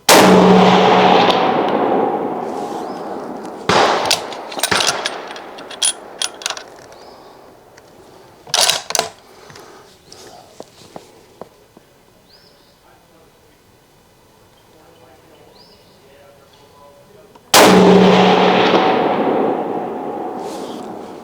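A Smith & Wesson 1500 .30-06 bolt-action rifle fires at a steel plate outdoors, with two loud, sharp blasts that decay slowly, one at the start and one near the end. Between them come scattered clicks and faint knocks, with a voice heard briefly.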